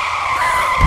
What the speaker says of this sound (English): And the car started skidding this way, and all over the place.